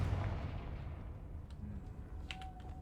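Confringo fire spell blast in Hogwarts Legacy, a deep booming burst at the start that fades into a rumbling tail, followed by fainter crackles and small pops, with no talking.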